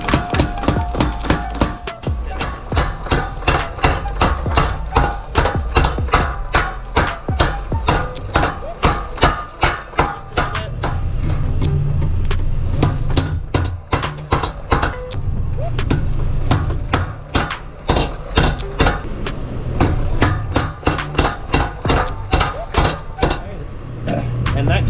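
Rapid, heavy hammer blows ring out in steady bursts, metal striking a hot steel billet being squared for a hammer head, over a constant roaring background hum.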